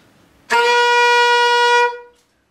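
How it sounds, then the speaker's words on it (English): Saxophone sounds a single high, squeaky, harmonically bright tone, blown too hard, holding loud and steady for about a second and a half before cutting off. "Sort of a high, kind of squeaky kind of tone."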